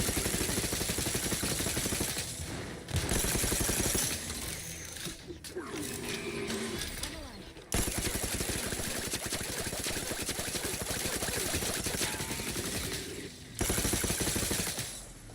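Rapid video-game gunfire from characters shooting rattles in dense, continuous bursts with brief pauses, loud and close, with mechanical clatter mixed in.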